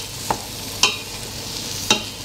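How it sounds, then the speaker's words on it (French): Garlic goes into a hot frying pan for a fresh pasta bolognese, giving a low sizzle with three brief stirring scrapes spread across a couple of seconds. "Et là, on va ajouter l'ail."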